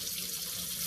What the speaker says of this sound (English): I am going to run a little bit of warm water over them